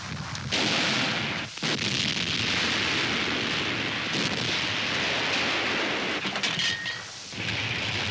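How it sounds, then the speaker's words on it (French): German artillery shelling open terrain in a WWII battlefield newsreel, a continuous loud roar of heavy fire with dense rumbling blasts that merge together and only brief dips between them. "Unsere Artillerie streut das Gelände ab."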